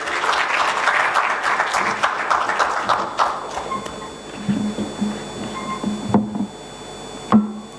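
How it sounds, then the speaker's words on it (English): An audience applauds as an author comes onto the stage at a literature festival. The clapping is strong at first, fades over a few seconds and then gives way to a few knocks and handling thumps. "let's have a huge round of applause for them, everybody"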